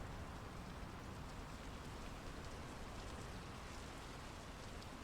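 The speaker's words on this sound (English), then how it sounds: "The rain's picking up." Steady rain falls in the Norwegian-set video game Draugen, a dense, even hiss of drops on surfaces that stays constant and fairly soft throughout.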